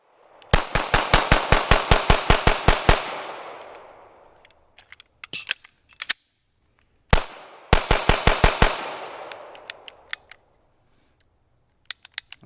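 Rapid strings of gunshots from a SIG P320 pistol, two fast volleys of about a dozen sharp cracks each with echoing decay, separated by a pause and a few scattered single shots and clicks.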